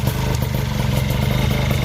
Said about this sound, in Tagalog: soundcheck muna tayo ng makina at tunog ng pipe